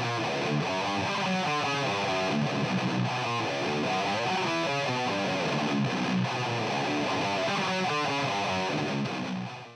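Dense, distorted high-gain heavy metal guitar chugging steadily with a smoothed, EQ-filtered tone, continuous and loud throughout.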